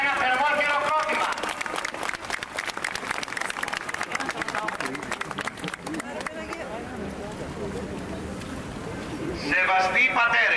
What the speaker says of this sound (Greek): Ένα θερμό χειροκρότημα.